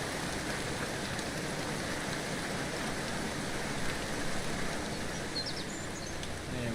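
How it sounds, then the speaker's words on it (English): Steady rain in the Kerbal Space Program video game, a dense continuous hiss of falling drops at constant loudness throughout. "I don't want to launch in the middle of the rain."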